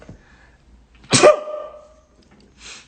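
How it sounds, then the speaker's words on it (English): A single sharp sneeze, close and fairly loud, preceded by a brief inhale and followed by quiet breathing. "I'm gonna sneeze."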